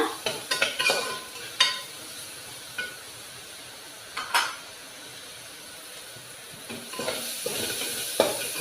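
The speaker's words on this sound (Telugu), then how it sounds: "ఉల్లిపాయలు బాగా వేగినంత వరకు వేయించుకోవాలన్నమాట" Salted onions fry in a pan for a cluster bean and tomato curry, with a soft sizzle under repeated spatula stirs and metallic clinks, busiest at the start and end.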